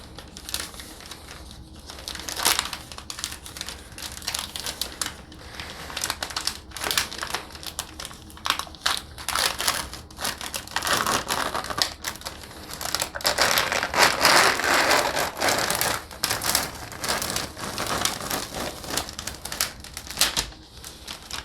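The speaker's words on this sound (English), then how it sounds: "I'm going to be opening up the steri peel of the towel forceps" A sterile peel pack holding towel forceps is opened, giving a quiet, continuous run of crinkling and crackling paper and plastic that rises briefly in the middle and carries on alone for about twenty seconds.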